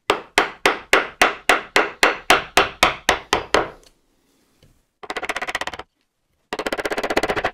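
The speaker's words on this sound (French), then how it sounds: "je vais faire des petits coups de maillet comme ça" A wooden mallet taps a wood chisel in a woodworking joint: about a dozen sharp, evenly spaced knocks in quick succession, close and loud, then a pause followed by two short rasping bursts.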